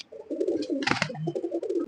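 Silver pigeons coo in a loft, a close, soft run of low rolling coos with a brief louder flutter or call near the middle, with no talking.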